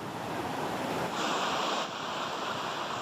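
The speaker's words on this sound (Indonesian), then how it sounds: "Banjir berarus deras di Kabupaten Bungo ini memutus 2 jembatan penghubung antar desa terjadi Minggu siang." Fast-flowing flood water rushes through Bungo, Jambi, making a constant loud whooshing roar with a gusty surge in the middle, like heavy surf or wind noise.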